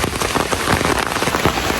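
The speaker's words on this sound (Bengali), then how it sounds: "আরো বৃষ্টি এখন জোরে আসতেছে" Heavy rain pours down steadily, a loud dense hiss of drops drumming on a surface with no voices.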